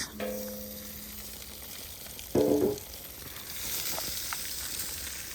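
Shrimp and bacon sizzle in a frying pan at a campsite in a state park, a steady soft hiss with a short clatter of utensils partway through.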